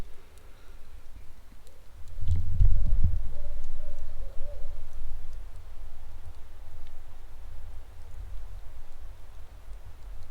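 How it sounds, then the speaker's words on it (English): A distant barred owl hoots a short series of low calls from a hillside near a creek ravine, faint under steady background noise. "There's a barred owl saying, "Who cooks for you?" over there on the hillside down towards that creek ravine."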